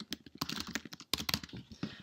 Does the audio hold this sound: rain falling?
no